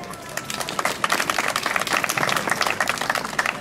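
Audience applause at the 2013 Miss Alsace election, a lively burst of clapping from a crowd that swells and stays fairly loud with irregular peaks, with some voices faintly mixed in.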